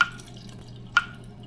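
Blix chemical poured into a film developing tank during 35mm color film processing, heard as two brief, separate liquid drips or splashes, close and fairly quiet against a low hum.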